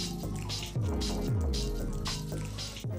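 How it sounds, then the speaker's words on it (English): Water squelches and drips as a Beautyblender makeup sponge is pressed down in a bowl of cold water, with wet squishing and small trickles, close and fairly quiet. "press down on the beauty blender, pushing out the hot water and allowing the cold water to soak in"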